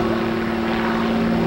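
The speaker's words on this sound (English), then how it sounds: "with Strike Commander following that great 16-point roll in the loop" A twin-engine Aero Commander Shrike Commander propeller airplane flies aerobatics at the 1987 Cleveland airshow, its steady engine and propeller drone loud and continuous throughout, with no talk.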